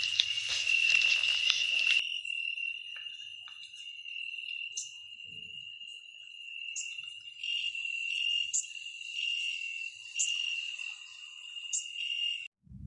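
Cricket chirping steadily in a continuous high, even trill, fairly close and clear, with faint pulsed accents and no voices.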